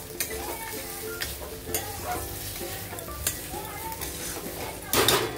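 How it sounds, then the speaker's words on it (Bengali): Kashmiri red chilli powder is stirred in a hot frying pan for chicken yakhni pulao, a soft steady sizzle with light metal spoon scrapes and clinks, ending in a brief louder clatter. "ভালো করে নাড়াচাড়া করে দেবো"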